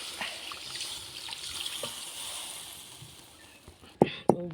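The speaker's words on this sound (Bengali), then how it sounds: "এখন আমি জল দিয়ে দিচ্ছি।" Water runs from a tap into a pan for a Bengali fish curry with small new potatoes, a steady soft splashing pour that stops near the end, followed by two brief sharp knocks of metal cookware.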